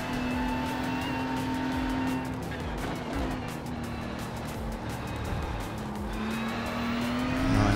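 A race car cornering at the Suzuka circuit, its engine holding a steady loud drone through the bends with a slight rise in pitch and a final surge of revving at the end, with no voices.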